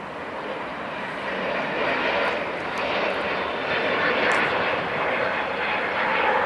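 A heavy jet airliner departing LAX toward the Pacific gives off a broad, continuous engine roar that swells gradually, heard from a distance with no talking.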